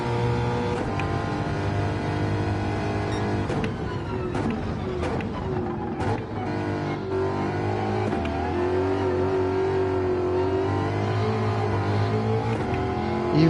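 Race car engine in Gran Turismo 7 drones steadily throughout, its pitch rising and shifting as the car revs and accelerates, loud and continuous with no talk over it.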